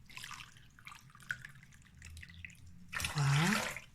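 Hot water is poured from glasses into a container, a short gush of liquid following quieter rustling and handling sounds, close by with no talking.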